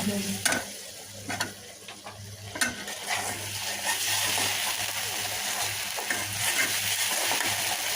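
Spice masala with turmeric and salt is stir-fried in a pan for a rohu fish roe dish, giving a constant sizzle broken by loud scraping and clattering strokes of the spoon.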